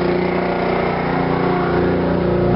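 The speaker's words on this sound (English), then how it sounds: "then we'll start this motor up and widen this sucker" A motor on a Drake heavy haulage float trailer runs steadily close by, a continuous loud engine drone with a faint hum and no speech over it.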